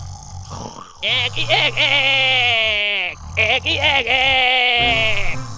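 A voice imitates a rooster crowing, two long strained crows in a row, loud and close.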